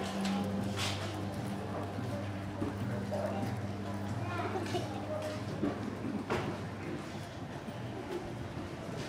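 Clydesdale horse hooves clip-clop on the ground in an uneven rhythm, shifting between walk and trot during a dressage demonstration, while a person talks nearby, with faint bird coos in the background.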